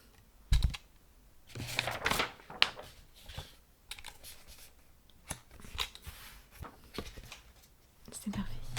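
Soft keyboard typing in a French ASMR writing roleplay, irregular bursts of close, quiet keystrokes with brief pauses, alongside soft-spoken voice.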